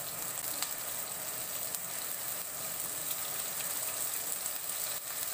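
Pork fries with garlic, ginger and curry leaves in a steady, hissing sizzle that runs evenly throughout, with a few faint clicks and no voices.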